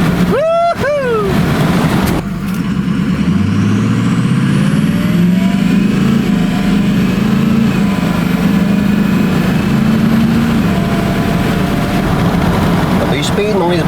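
A Ford F250 diesel pickup on a test drive rumbles loudly from inside the cab, its engine note climbing steadily as it accelerates through the gears, with voices heard over the drone.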